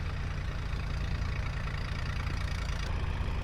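Several tractors idle together at a dewatering works site, a steady, dense low engine rumble with faint knocking that holds at even loudness throughout, with no voices.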